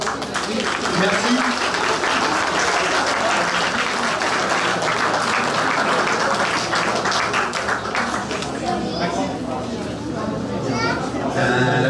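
An audience applauds cosplay contestants on stage at the Auxerre Galactic Days 2022 cosplay contest. The dense clapping holds steady throughout, with crowd chatter and a voice talking over it.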